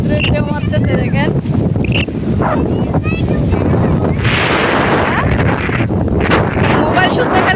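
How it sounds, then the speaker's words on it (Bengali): Strong wind buffets the microphone on a sea beach while waves crash and surge, a constant roaring blast with a person talking over it. "এখানে প্রচন্ড বাতাস আর সমুদ্রের ঢেউ মারতেছে দেখেন।"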